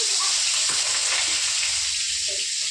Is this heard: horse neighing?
no